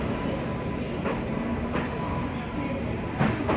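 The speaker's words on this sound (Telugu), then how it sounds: "మన ట్రైన్ అయితే ఇప్పుడే వచ్చేసింది." Karnataka Sampark Kranti Express, train 12650 from Hazrat Nizamuddin to Yesvantpur, rolling slowly alongside a station platform, giving a steady broad rumble with faint rail clatter and a few brief louder knocks near the end.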